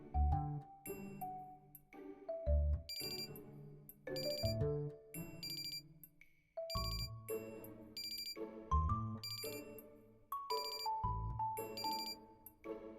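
An electronic alarm plays a repeating, chiming melody of bright tones, steady and moderately loud, continuing throughout with no talking.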